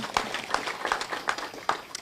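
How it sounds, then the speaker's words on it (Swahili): Crowd applause at a pediatric eye hospital launch in Vihiga County, Kenya, scattered sharp claps running steadily across the whole moment at moderate volume with a couple of louder accents. "Tupigie Governor makofi."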